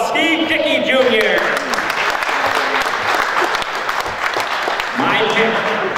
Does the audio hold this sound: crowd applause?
yes